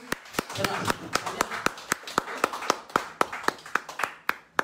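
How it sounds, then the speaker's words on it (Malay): Sharp, evenly spaced hand claps from a small group, rhythmic and fairly close, with faint talk in the background. "Berikan tepukan pada tim."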